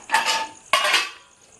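A metal lid comes off a pot of mutton keema ghugni with Kabuli chana. Two bright metallic clanks sound close by, a short pause between them, and each rings briefly before fading.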